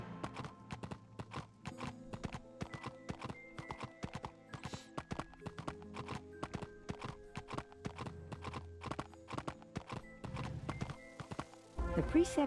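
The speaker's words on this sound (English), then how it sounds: "I like the sound of the horse." A horse's hooves clip-clop in steady, repeated beats in the video game Wizard101, moderately close, over game music with faint background tones.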